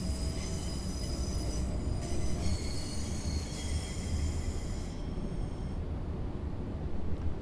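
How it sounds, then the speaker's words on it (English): Stadler FLIRT train accelerating through the damp Ipswich tunnel, a continuous loud rumble of wheels on rail with high squealing tones that fade out partway through. "we'll let the train accelerate us up to 25 mile an hour as we go through the normally damp Ipswich tunnel"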